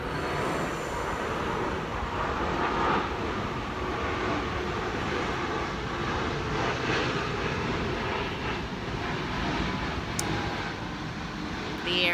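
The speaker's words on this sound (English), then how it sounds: "Airplane." An airplane flies overhead, a steady broadband roar that holds at a constant level for the whole stretch, with no talking over it.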